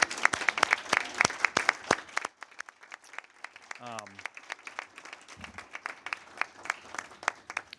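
Applause at a transit authority board committee meeting for the paratransit team, with sharp individual claps ringing out, a voice briefly heard partway through, and the clapping carrying on throughout.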